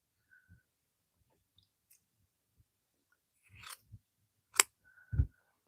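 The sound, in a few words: shears trimming angora rabbit fur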